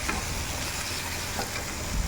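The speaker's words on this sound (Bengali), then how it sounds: "পেঁয়াজটা, লঙ্কা, রসুনটা আমার ভাজা ভাজা হয়ে যাচ্ছে।" Onion, chilli and garlic fry in a pan, a soft close sizzle with light stirring scrapes, steady and unbroken, with nobody speaking.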